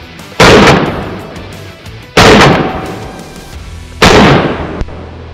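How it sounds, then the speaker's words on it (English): Three loud, sharp shotgun blasts from a Beretta 1301 Tactical at an outdoor range, spaced about two seconds apart, each with a brief decaying tail, and no talking. "Beretta's 1301 Tactical. Just ate her first 8 rounds ever."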